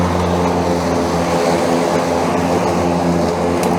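A Ryobi 40V HP 21-inch brushless self-propelled lawn mower runs continuously with a loud, steady whirring hum much like a big box fan, close and with no engine sputter.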